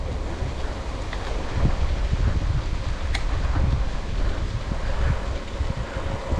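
Strong breeze buffeting the microphone outdoors in sunny, cool weather, a steady broadband rush with gusty low rumbles and no voices.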